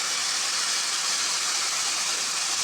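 Onion, ginger and garlic frying in a pan, giving a steady, loud, even sizzling hiss with no breaks and no talking.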